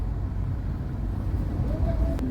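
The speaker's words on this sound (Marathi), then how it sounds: "गर्दी बघा, गर्दी ट्रॅफिक बघा." Busy street traffic around a crowded market selling Ganesh idols in Pen, a steady low rumble of vehicles with a faint engine whine and a short horn-like tone near the end.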